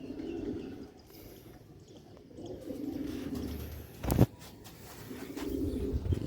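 Pigeons coo in low, soft rolling phrases, with a sharp brief clatter near the end and steady background noise throughout.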